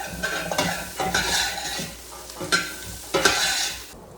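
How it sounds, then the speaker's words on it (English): Carrots and onions sautéing in a soup pot, a soft sizzle under repeated scraping strokes of a spoon stirring the vegetables, close and fairly quiet. "While the carrots and onions are sauteing, let's prep the next step."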